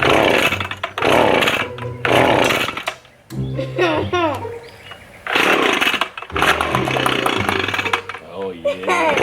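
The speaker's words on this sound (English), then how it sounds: "A leaf blower, and it'll reduce your drying time significantly" A handheld leaf blower drying off an abandoned, moldy SUV during detailing, roaring loudly in long close bursts with brief pauses, while someone speaks over it.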